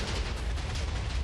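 TNT blasts in Minecraft, a dense, continuous low rumble of overlapping explosions at moderate level, with no speech.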